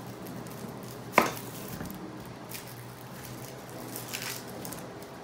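A knife trims the ends off a purple onion with one sharp chop on a board, then a few faint cuts over a quiet background hum.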